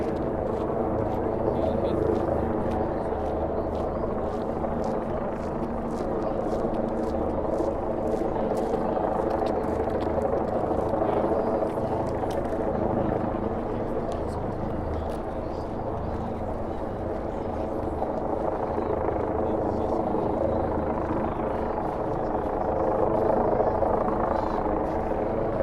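A helicopter flies over Central Park in New York, a steady loud rotor drone filling the whole stretch with a slow swell in level, heard under occasional talk.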